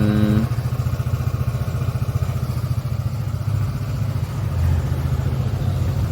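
A Vespa GTS 150 scooter engine runs steadily with a low, rapid putter and light mechanical clatter, close and continuous, without talk.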